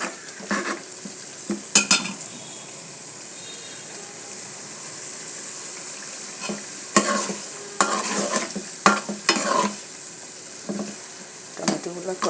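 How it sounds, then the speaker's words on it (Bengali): Tomatoes sauté in a hot pan for a Bengali rohu fish curry, a steady sizzle broken by repeated scraping strokes of a spoon against the metal, close and with no talking. "টমেটোগুলো কষানো হলে"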